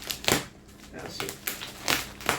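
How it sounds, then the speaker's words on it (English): Bubble wrap being handled and popped while orders are packed, with several sharp crinkly crackles and pops spaced irregularly at close range. "To those who like the sound of bubble pops or whatever it's called, there that went."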